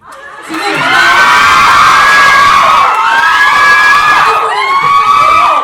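A crowd of reporters at a press event bursts into loud cheering and high-pitched shouting, rising quickly and holding for several seconds with a brief dip in the middle.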